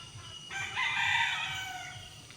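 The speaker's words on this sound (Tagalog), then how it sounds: "ang gigising po sa inyo ay mga honi po ng ibon, manok" A rooster crows once on a morning in the countryside: a single long, clear cock-a-doodle-doo at moderate distance over faint background ambience, with no talking.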